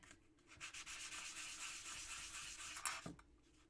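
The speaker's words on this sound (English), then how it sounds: "I'm just going to do a little bit of sanding" Sanding across the back of a metal earring makes a steady abrasive rasp of repeated scratchy strokes. It runs close and continuous, with no voices, and ends in a sharper scrape just before it stops.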